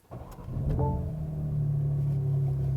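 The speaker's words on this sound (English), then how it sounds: "let's see in the cabin what that inline 6-cylinder sounds like" A BMW M2's inline six-cylinder engine starting, heard from inside the cabin: a brief starter whir, a rising catch, then a steady, deep idle hum that settles and stays.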